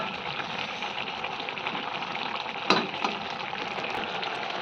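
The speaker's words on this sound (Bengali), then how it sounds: "শাকগুলোকে একটু ভেঙে চুড়ে একটু ঘেটে ঘুটে দেবো" Pumpkin greens and potatoes sizzle and fry in a pan with a steady crackle, broken by a brief clack of stirring midway.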